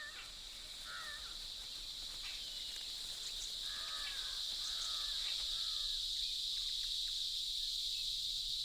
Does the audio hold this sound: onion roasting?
no